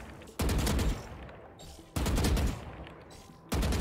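Gunfire at a shooting range in the video game Valorant comes in three loud, close bursts of rapid shots, separated by short pauses.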